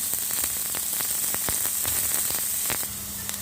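Onion and chopped coconut frying in a pan give a loud, continuous hissing sizzle with frequent crisp spatters, fading slightly near the end, with no talking.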